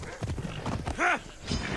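Horse hooves clip-clop in the game Assassin's Creed Odyssey, a short burst of steps close by, with one brief tonal whoosh in the middle and faint game ambience around it.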